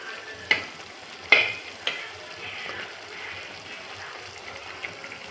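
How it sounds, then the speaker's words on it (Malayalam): Crab curry cooks as crabs are stirred into a masala gravy in a pan. A few sharp spoon knocks ring out over a soft, continuous sizzle, close by with no talk. "ഞണ്ടൊക്കെ ഇങ്ങനെ നമുക്ക് അതിൻ്റെ ആ ചാറുക്ക് മുക്കി വെക്കുക"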